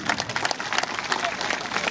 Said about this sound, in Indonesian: Tepuk tangan kuang keras itu.